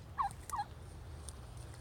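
Golden Palm turkeys on an organic homestead give two quick gobbles close by, followed by low background rumble.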